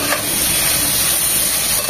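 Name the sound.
onions and capsicum frying in pan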